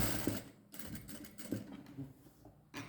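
A sewing machine stitches a folded blouse border, running in a soft, steady mechanical whir with small rhythmic ticks, fairly quiet and close, with no voices.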